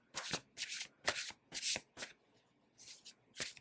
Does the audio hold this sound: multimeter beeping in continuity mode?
no